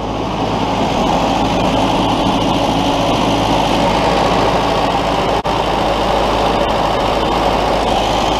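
A Willys CJ2a flat fender jeep engine runs steadily at close range, a loud continuous rumble with one brief dropout partway through.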